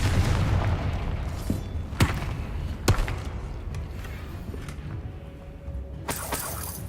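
Confringo fire spell explosions in Hogwarts Legacy, several sharp booming blasts spaced a second or so apart over a low rumbling game soundscape, with a final bright burst near the end.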